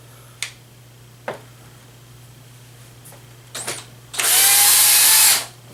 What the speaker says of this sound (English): so hopefully I can use my drill.